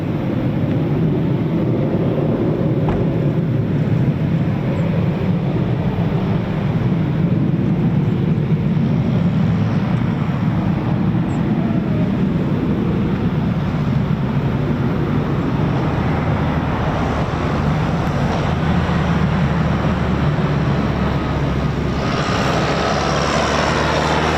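A Eurofighter Typhoon FGR4 jet taxiing at RAF Coningsby, heard as a steady, loud, low engine rumble and whine that holds constant throughout with no breaks.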